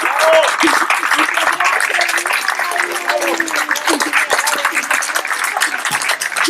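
Audience applause welcoming a guest at a public event, steady dense clapping from a crowd lasting several seconds with voices mixed in.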